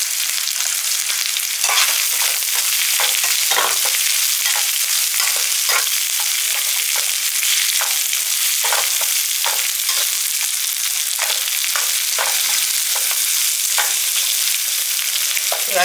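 Grated coconut, three dried red chillies and a handful of chana dal frying in a pan for a Tamil greens dish: a steady, close sizzle with repeated scraping stir strokes throughout, no voices.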